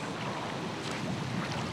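Strong wind gusting across open water during fly fishing on a very windy day, a steady low roar with buffeting rumble against the microphone throughout.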